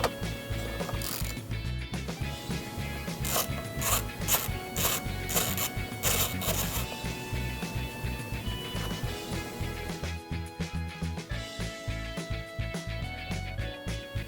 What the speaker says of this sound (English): Now we can remove the nut for the battery hold-down strap. For this, you'll need a 13mm wrench.